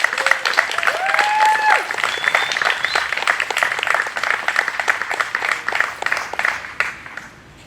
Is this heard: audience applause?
yes